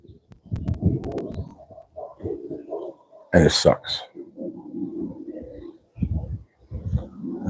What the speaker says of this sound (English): Beautiful bird.